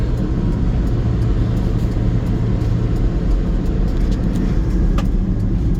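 A 1999 Mitsubishi MiniCab 4x4 kei truck with low mileage drives and turns around, its small engine a steady, close rumble under constant road and cabin noise, with a few light knocks and rattles.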